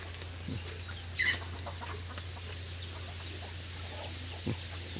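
Chickens on a farm cluck faintly against a steady low hum, with a brief louder call near the middle and another soft cluck toward the end.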